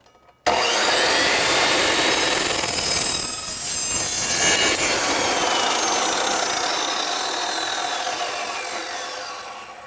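A power saw cuts through aluminum: a loud, sudden start into a continuous high-pitched whining, grinding cut that holds steady for nearly ten seconds and tapers slightly at the end, close and alone.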